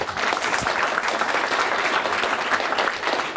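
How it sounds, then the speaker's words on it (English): A crowd at a breakfast event claps steadily, a dense patter of many hands at even loudness throughout, with no talking over it. "Let's give them a big round of applause."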